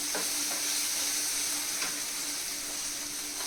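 Okra fries in a pan with a steady, soft sizzle and hiss, occasional stirring scrapes breaking through the constant frying noise in a home kitchen.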